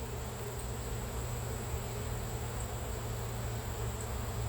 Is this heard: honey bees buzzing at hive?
yes